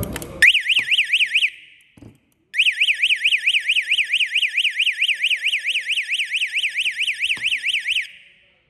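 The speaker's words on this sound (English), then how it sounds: "So when it gets short, the alarm must go on." An access controller alarm sounds when its auxiliary input loop is shorted. A loud, close electronic siren warbles rapidly, starts after a brief click, stops for about a second, then resumes in a long steady run before cutting off.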